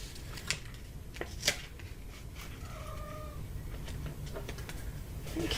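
Two cats play indoors, giving a short faint meow midway amid scattered light taps, rustles and shuffling noises from the craft table, with no talk.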